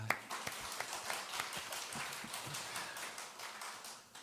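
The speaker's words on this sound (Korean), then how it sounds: "우리 박수 한번 칩시다" Congregation members at a Sunday church service clap for the Sunday school teachers, an uneven run of sharp, close hand claps that thins out over several seconds.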